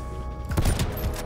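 Rapid gunfire in a video game, a dense burst of loud overlapping shots over steady in-game music.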